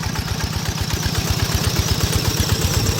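A small walk-behind tractor engine on a rice farm runs steadily, a loud close chugging with rapid even firing pulses and mechanical clatter, alone without talk.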